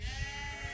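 A sheep bleats on a pasture at a sheep farm, one sustained, wavering, nasal cry heard close and fairly loud, with no talking.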